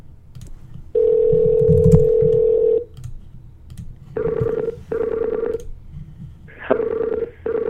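Phone dialing tones: a long steady tone, then a series of shorter beeping tone bursts, loud and close, with a faint low hum between them and no talk.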